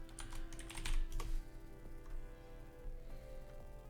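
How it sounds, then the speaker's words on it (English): Rapid clatter of keystrokes on a computer keyboard while a chat command is entered, a dense burst of clicks early that thins into scattered taps, close and fairly quiet. "So if I type !test"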